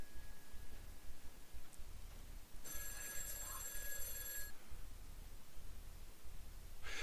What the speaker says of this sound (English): That darn phone, why'd they ever invent it?